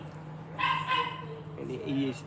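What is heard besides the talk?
dog barking indoors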